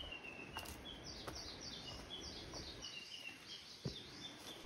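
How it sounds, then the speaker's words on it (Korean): Birds chirp and trill repeatedly in a dense forest trail setting at Dakbatgol forest bath area, with a steady soft wind-like hiss underneath and occasional faint taps that could be footsteps. "온 세상이 새소리, 바람소리, 그리고 발자국 소리만 있는 것 같은데요."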